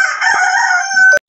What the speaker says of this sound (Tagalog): Tapos yung mga manok.